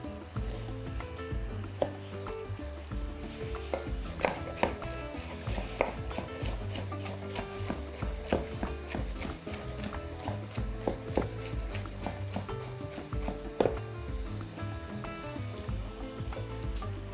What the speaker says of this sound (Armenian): Սա կտրատում ենք մանր։